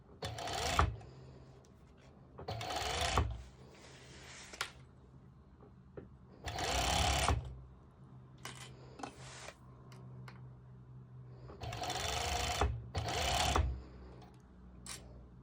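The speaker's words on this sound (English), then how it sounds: "I am making sure that I'm serging over my my band as well" A serger sewing machine stitches over a fabric band on a cowl neck dress cover-up, running in several loud bursts separated by short pauses, with faint ticking between runs.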